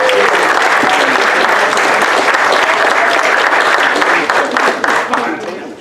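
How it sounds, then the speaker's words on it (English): Loud, sustained applause fills the room from a banquet audience at a Hall of Fame dinner, steady dense clapping with crowd murmur that tapers off near the end. "give them a round of applause"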